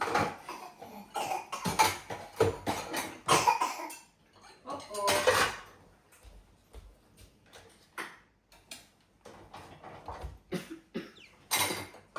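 Several close coughs come in bursts, followed by scattered light ticks and clinks in a quiet room.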